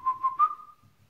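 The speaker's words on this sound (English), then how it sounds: "you heard me whistle, huh?" Person whistling to call an Airedale Terrier puppy, three short rising chirps followed by a longer held note, clear and close, then quiet.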